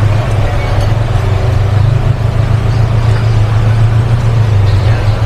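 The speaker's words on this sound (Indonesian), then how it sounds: "Dan sini mobil-mobil bisa lalu-lalang di sini." Steady traffic noise from cars moving along a street at a night food market in Cibadak, Bandung, a continuous low engine rumble with busy background hubbub and no clear single pass-by.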